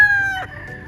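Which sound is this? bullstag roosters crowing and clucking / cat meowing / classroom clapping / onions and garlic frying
bullstag roosters crowing and clucking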